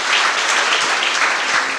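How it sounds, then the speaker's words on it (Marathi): Loud, dense applause from a congregation at a Marathi prayer meeting, a steady wash of many hands clapping together throughout with no pauses. "तुम्ही सर्वांनी जोरात टाळ्या वाजवून प्रभू येशूला धन्यवाद द्या"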